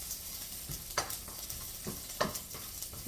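Garlic sizzles quietly in a hot pan for fried rice, with soft steady frying hiss and several sharp scraping stirs of a utensil at uneven intervals.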